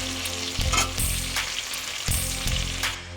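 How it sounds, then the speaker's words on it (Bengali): Shrimp frying in a pan give a steady, close sizzle with bursts of louder crackle and stirring, and no voices are heard. "এই দেখো চিংড়ি মাছগুলোকে আমি এভাবে ভেজে নিলাম।"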